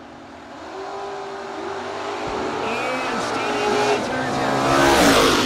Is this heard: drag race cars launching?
yes